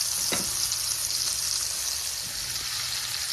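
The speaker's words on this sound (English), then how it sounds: "I'm going to let this sear for a while." Chuck roast sears in butter and bacon grease in a pan, giving a steady, loud, close sizzle and frying hiss throughout, with a few light clicks and no talking.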